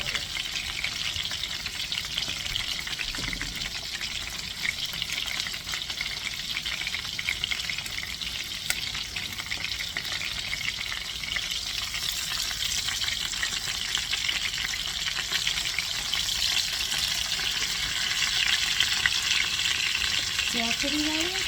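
Cajun-seasoned chicken thighs fry in a pan with a steady, close, even sizzle and crackle that continues unbroken the whole time, with no voices.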